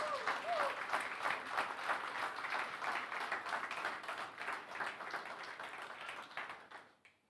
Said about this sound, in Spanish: Dale un aplauso a Jesucristo con todo tu amor.